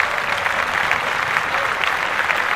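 Group clapping in a podcast setting, a short, steady burst of applause at moderate loudness with no break throughout.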